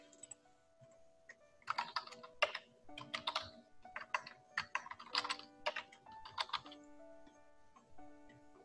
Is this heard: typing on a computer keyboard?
yes